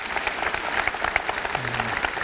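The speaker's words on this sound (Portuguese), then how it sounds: "quero convidar você, com uma boa salva de palmas," A church congregation applauds a guest pastor, dense steady clapping from many hands filling the room, with faint voices underneath.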